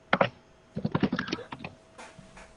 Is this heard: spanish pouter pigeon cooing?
no